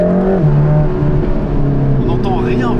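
A Mercedes-AMG GT Black Series sports car with a 730 hp engine holds a low, steady drone with shifting harmonics while someone talks over it.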